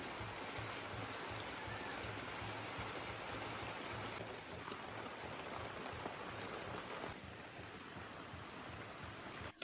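Heavy rain pours steadily over a village, a dense, continuous hiss of drops on surfaces and running water, loud and close throughout with no voices.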